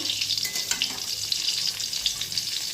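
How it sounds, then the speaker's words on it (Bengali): Pointed gourd (potol) fries in a pan with a continuous crackling sizzle, close and moderately loud, with no one speaking. "এদিকে একটু পটল ভাজা বসিয়েছি"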